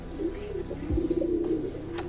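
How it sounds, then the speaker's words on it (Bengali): Pet pigeons give a close, soft, low cooing call lasting about two seconds, with no talk over it. "উনি দেখতেছে আমার কবুতরগুলা"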